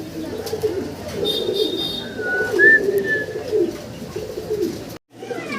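Shiny-coloured pigeons coo steadily in a loft, a low continuous murmur of several birds close by, with a brief higher chirp partway through and a short silent break near the end.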